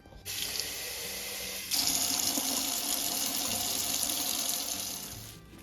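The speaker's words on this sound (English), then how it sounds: "So you're dumping out the water, you keep the seeds in there, and we're going to add some more water to it." Water is poured out of a seed sprouting jar in a steady, splashing gush that runs for several seconds. It swells louder partway through, then tapers off at the end, with no talking.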